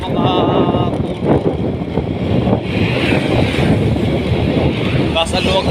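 Strong wind gusts across an open field roar steadily against the microphone, with someone talking over the rumbling buffeting.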